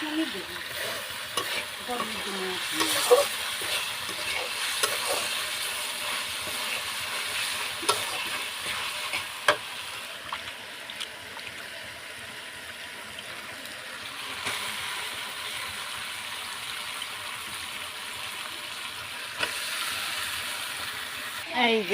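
Taro peels being stirred and fried with turmeric, chili powder, ground spices and salt, giving a steady soft sizzle with scraping stir strokes and occasional clinks throughout.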